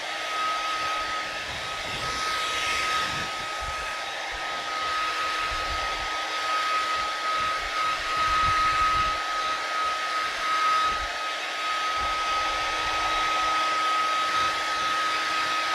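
A hair dryer blows steadily up close, drying paint on a wooden sign made with farmhouse paint and a stencil, a continuous airy whir with a high whine running unbroken throughout, no talking.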